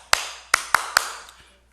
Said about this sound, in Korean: 응원할 때 치는 박수죠.